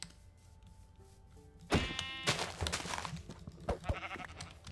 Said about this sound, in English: Okay, now where is that sheep?